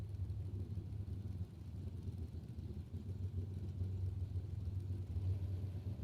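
Dragster engine at a drag strip bracket-racing event, a steady low rumble that holds evenly throughout at moderate volume with no speech over it.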